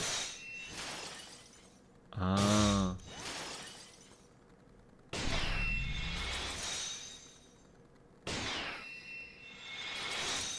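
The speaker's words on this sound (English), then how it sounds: "shattering glass sound." A shattering glass effect from the Great Ace Attorney 2 video game, a loud crash with bright ringing shards, set between stretches of someone talking over game audio.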